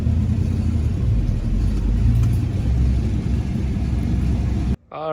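A 1988-98 Chevy OBS two-wheel-drive pickup with a 4-inch lift drives along with a steady, loud engine rumble and road noise from inside the cab, ending with an abrupt cut.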